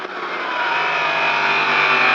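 A motorcycle accelerates hard on the Le Vigeant race track, a steady, rising engine whine that grows slightly louder over two seconds, recorded close with continuous wind rush and no talk.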